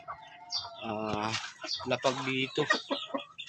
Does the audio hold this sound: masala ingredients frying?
no